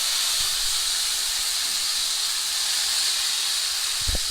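Steak searing in a 12-inch pan, a loud, steady sizzling hiss that runs unbroken throughout, with a couple of soft clunks near the end.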